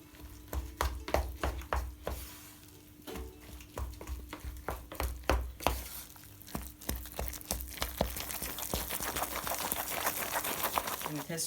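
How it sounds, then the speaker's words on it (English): Cooked rice with pandan leaf and lemongrass is stirred in a pan, a run of scraping, shuffling strokes in uneven rhythm, close and fairly quiet, growing into a denser rustle toward the end. "And stir it through."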